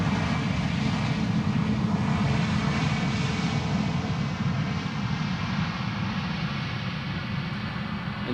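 EasyJet Airbus A320neo jet airliner taxiing at Amsterdam Schiphol Airport: a continuous loud engine roar and whine, steady throughout and easing only slightly toward the end, with no voices.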